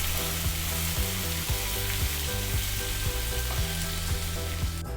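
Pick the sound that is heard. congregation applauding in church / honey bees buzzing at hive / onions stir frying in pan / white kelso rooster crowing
onions stir frying in pan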